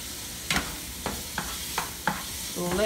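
Broccoli sautéing in a pan with adobo seasoning, a soft steady sizzle broken by several sharp scrapes of a utensil stirring at irregular intervals, close and alone without voices.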